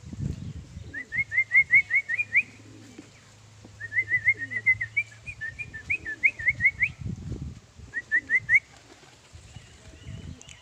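Crested pigeons call in bursts of low throbbing coos, mixed with repeated high whistling trills, fairly close and loud, in several clusters separated by short pauses.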